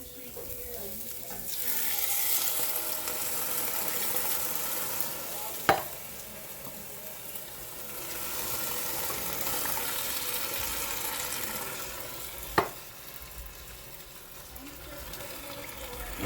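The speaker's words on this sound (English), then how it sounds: "We're going to go ahead and get these tomatoes put in here." Fresh tomatoes frying in hot oil in a Ninja cooker pot, a steady close sizzle with two sharp clicks of a spoon against the pot while stirring.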